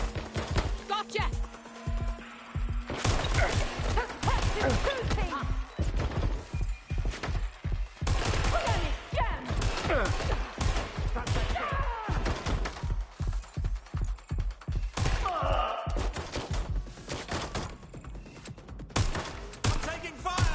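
Heavy gunfire in the video game Watch Dogs: Legion, a rapid, continuous fusillade of loud shots with dense bursts and brief pauses across a long firefight, with shouting voices heard over it.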